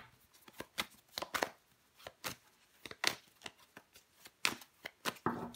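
Tarot cards are shuffled and laid out close by in a soft, quiet run of crisp snaps and flicks, arriving in irregular clusters with short pauses between them.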